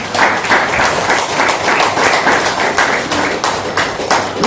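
A church congregation claps together during a Sunday healing service, loud rapid hand claps in an even rhythm that carry on for several seconds with no talking.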